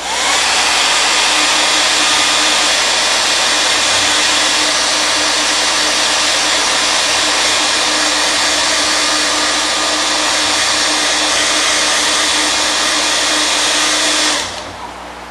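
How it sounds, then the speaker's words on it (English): A hair dryer blows steadily and loudly up close, drying a foam puppet head, a constant whooshing whine that cuts off near the end. "I'm going to take my hairdryer,"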